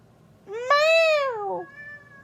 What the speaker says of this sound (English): Meow! Meow! Meow! Says my kitty. He's frustrated about something.